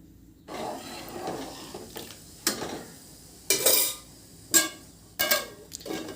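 Rice is stirred into a pot of boiling water for bagara rice, with a spoon scraping and clanking against the pot, then the lid is set down in several distinct metallic clanks, close and moderately loud.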